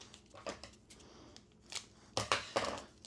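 Scissors snip through packing tape while a stereo boombox is boxed for shipping, a few quiet, scattered cuts and crinkles with a brief faster cluster near the end.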